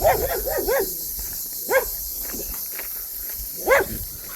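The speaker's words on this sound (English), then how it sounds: "there are a couple of guard dogs in this, whatever it is, on your right" Several sharp barks from tied-up guard dogs, a quick cluster at first and then single barks spaced apart, moderately close over a steady outdoor hiss along a hiking path near Faliraki.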